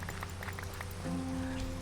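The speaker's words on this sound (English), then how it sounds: "Is it a thunderstorm or just a regular rain? It looks like just a regular rain." Steady rain in Minecraft (FTB One modpack) hisses as a dense continuous wash, with soft pattering droplets over a low game hum, no speech.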